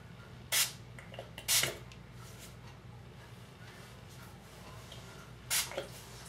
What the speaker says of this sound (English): So I'm just gonna spray this on the cotton ball.